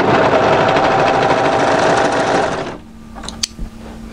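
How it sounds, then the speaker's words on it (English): An overlocker runs fast and loud as it serges the short edge of a neckband, then cuts off abruptly, leaving a faint hum and a few small clicks. "Take your neckband and place it right sides together and overlock this short edge."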